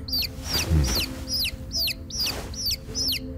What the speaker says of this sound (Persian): جوجه های عزیز یه دقیقه آروم وسط صحبت ما